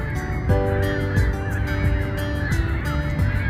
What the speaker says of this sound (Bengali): পাখিরা ডাকতেছে কিচির মিচির চারদিকে।